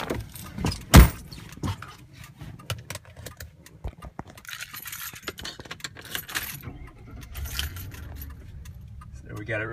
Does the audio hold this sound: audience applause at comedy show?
no